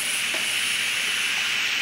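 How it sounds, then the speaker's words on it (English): Steam hissing steadily and loudly from the quick-release valve of a Cosori electric pressure cooker, a continuous close, bright rush of escaping vapour with no talking. "The steam that comes out of this is a little hot, so be careful."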